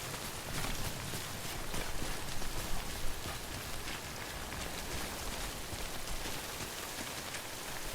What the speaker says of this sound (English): rain in this game is not fun